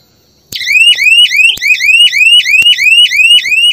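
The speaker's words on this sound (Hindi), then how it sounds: "जब भी कोई यहाँ पर घुसने की कोशिश करेगा अलार्म भी सुनाई देगी आपको" Solar jhatka crop protection machine alarm sounding a loud, rapid series of repeated rising electronic chirps in a steady rhythm, close and alone without any talk.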